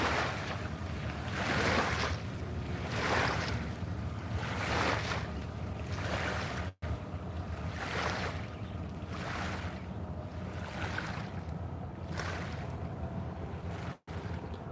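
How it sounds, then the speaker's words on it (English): Water sloshes in rhythmic swells, each wave rising and falling about every second and a half, with a steady rushing wash and some wind noise throughout. "Let this water calm down before I continue."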